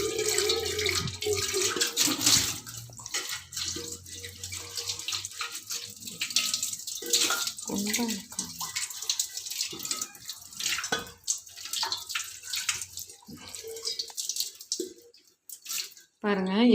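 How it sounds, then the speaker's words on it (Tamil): A utensil is scrubbed with Sabeena powder and a scrubber beside running tap water, with wet rubbing and splashing throughout and someone talking over it. "இப்போ இன்னும் நல்லா போகிறதுக்கு நம்ம சபீனா வச்சு தேய்ச்சிக்கலாம்"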